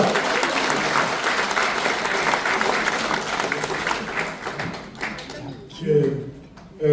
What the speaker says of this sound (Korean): 박수 한번 다 같이 좀 주십시오